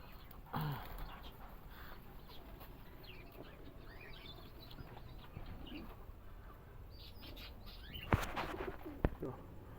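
A pair of Rampuri pigeons gives soft, low coos, with a clear one near the start. Faint rustling, flutters and distant background noise fill the quiet space around them.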